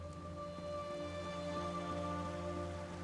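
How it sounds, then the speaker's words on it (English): Rain falls in the Elder Scrolls Online game world, a faint, even patter spread over a soft steady hum with no voices. "Yep, it's definitely raining volcano here."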